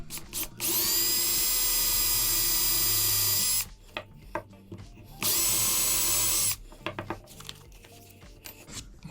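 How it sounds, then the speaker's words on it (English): A power drill with a 1/4-inch bit whirs steadily in two sustained bursts, each a few seconds long, expanding a hole in wood, separated by quieter handling noises and clicks. "then I'm going to expand that hole with a regular drill"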